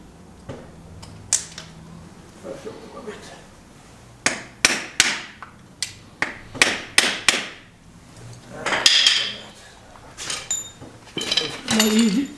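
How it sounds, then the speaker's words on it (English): Small crowbar prying and knocking against a Chevy Equinox 2.4 Ecotec engine during rear main seal work, giving a series of sharp metallic clanks and taps, irregular and close, with quieter scraping between them. "Small crowbar there."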